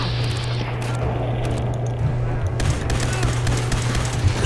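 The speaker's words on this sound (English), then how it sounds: "What you shooting at, Piper?" Gunfire from a companion in Fallout 4 breaks out in short rapid bursts over a steady low hum, getting busier and louder toward the end.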